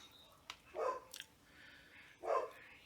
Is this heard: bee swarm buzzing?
no